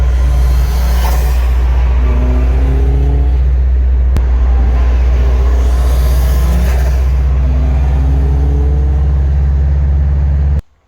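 A turbocharged Mazda Miata NB engine runs steadily close by, a loud constant drone with faint rising and falling tones and no talk.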